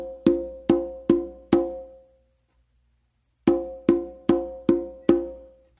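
Hand strikes on a conga ring out cleanly alone: four sharp, resonant hits in an even pattern, a pause, then five more, each with a short decaying tone.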